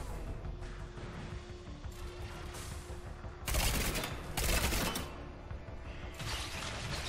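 Weapon fire in Mass Effect 3 with the Expanded Galaxy mod: two rapid bursts of shots a moment apart, then a third starting, standing out over a low, steady background of game ambience.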